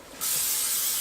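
Cooking spray greasing a muffin pan: a steady, close aerosol hiss that starts abruptly after a brief pause and runs continuously to the end.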